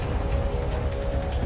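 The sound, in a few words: harsh rain sound effect in audio story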